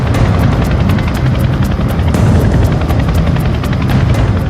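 A Chinook twin-rotor helicopter flies low over a peninsula, a dense, continuous rumbling thud of blades with rapid rhythmic chopping, loud and close the whole time.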